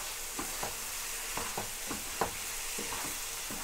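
Tomato biryani masala fries in a pot as yogurt is stirred in, a soft steady sizzle under a series of regular scraping and stirring strokes, close and fairly quiet, without speech.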